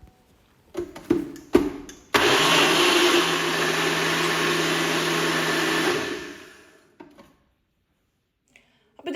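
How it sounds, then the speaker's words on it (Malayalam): Mixer grinder blending mango pulp with whipping cream for homemade ice cream, a steady loud whirring drone running about four seconds after a few short knocks and taps, then winding down into quiet handling noises. "ഇനിയിപ്പോൾ ഇതാ ഞാനിത് മൊത്തത്തിൽ മിക്സിയുടെ ജാറിലിട്ട് കൊടുത്തിട്ട് നല്ലോണം പേസ്റ്റായിട്ട് അരച്ചെടുക്കലാണ്"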